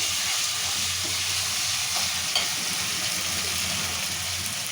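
Onions frying together with ginger-garlic paste in a pan for a stuffed brinjal masala curry, giving a steady, even sizzle throughout with a faint scrape or two of stirring and no talking.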